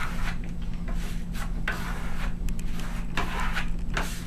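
A steel trowel spreads fine Venetian marmorino plaster on a wall in repeated close scraping, rubbing strokes with a steady rhythm.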